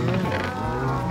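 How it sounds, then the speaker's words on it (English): Cattle mooing inside a Minecraft cow crusher farm, a drawn-out lowing call with game ambience, no talk, lasting about a second. "The cow crusher is actually starting to work."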